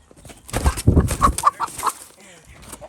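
Near a coop with goats about, a flustered chicken lets out a run of loud, close squawking clucks mixed with scuffling and a flutter of wings, fading to quieter rustling at the end.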